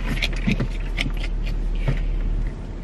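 Cabin ambience inside a new car while driving, a steady low road and engine rumble with faint rustles and small interior clicks, some quiet background voices, the level easing slightly near the end.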